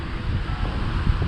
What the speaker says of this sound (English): so windy. I'm trying to cover the microphone.